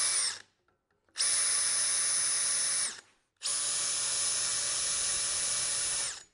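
A BOLTR 40V cordless drill spins up with a high whine while drilling into aluminum: a brief burst that stops, then two longer steady runs separated by a short pause, loud and close.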